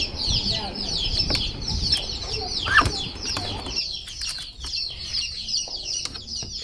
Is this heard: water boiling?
no